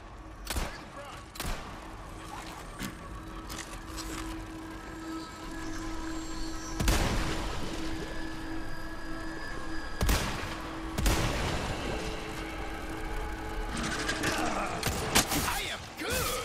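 Gunshots in the video game Resident Evil 4 Remake ring out as scattered loud, sharp blasts with short bursts, set against a steady game ambience and occasional mechanical thumps.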